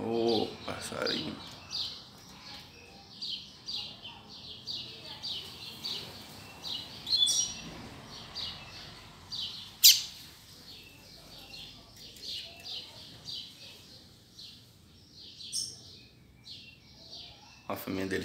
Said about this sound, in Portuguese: Olha a fêmea dele chamando, galera.